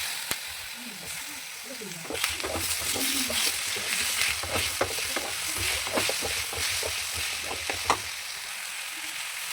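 Tomato frying in a pan and being stirred during preparation of a sambar, a continuous loud sizzle with scraping strokes of the spoon throughout and a voice talking faintly underneath.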